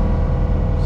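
A skid steer engine runs steadily close by during brush clearing and land levelling, a loud continuous low rumble with no break.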